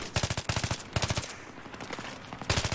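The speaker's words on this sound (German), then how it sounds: "jetzt hör doch auf zu ballern" Bursts of automatic weapon fire in the video game Battlefield 3, several short rapid volleys close and loud, separated by brief pauses filled with quieter battlefield noise.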